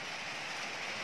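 Steady rain falls on a rural farm, a dense, even hiss with no distinct drops standing out and no talking.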